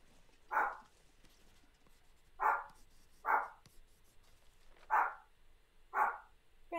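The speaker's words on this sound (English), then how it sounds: "Sorry about the dog." A dog in the survival game The Long Dark barks in five short, separate bursts spread evenly over several seconds, fairly faint against a quiet background.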